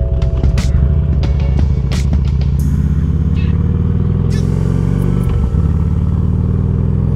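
Motorcycle riding down the road with a dog in a pet carrier, a loud steady low engine rumble with sharp clatters and knocks on top and a brief dip partway through.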